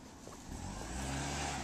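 A car drives past on a street. The engine rumbles low and swells as it draws near, then holds as a steady whoosh. It is fairly faint, with no voices over it.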